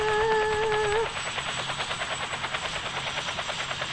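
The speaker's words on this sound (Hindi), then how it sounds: "हेलीकॉप्टर।" Helicopter in a prison escape video game, with a tonal whine at the start giving way to a loud, steady rotor chop that pulses rhythmically and up close, without any talking.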